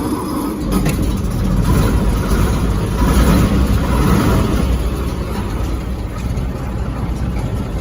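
A Railway Express vehicle engine runs loudly and close, a rough, continuous rumble that swells slightly as it settles into a fast idle with the throttle held open, steady throughout with no talk.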